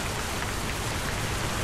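Steady rain falling on a surface, a dense even hiss with soft patter of drops, continuous and fairly close throughout with no voices.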